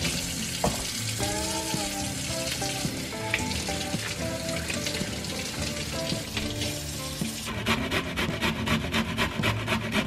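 Cauliflower being grated for paratha stuffing, a continuous rough rasping that turns into quick, evenly spaced strokes toward the end, with tonal background sound running underneath.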